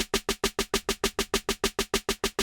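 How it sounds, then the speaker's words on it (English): A basic build-up snare sample from a moombahton remix, rolled in a rapid, even stream of about sixteen loud, bright hits over a couple of seconds, dry and alone. "the only other snare that I use is basically this build-up snare,"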